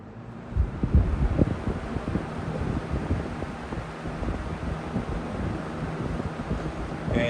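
A Lakewood S-223 box fan on high speed gives a steady, moderately loud whooshing airflow with low rumbling and buffeting at the microphone, running continuously with no talk.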